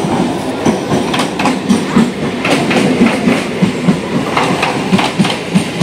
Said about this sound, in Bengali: চলো ট্রেন এক্ষুনি এসে যাবে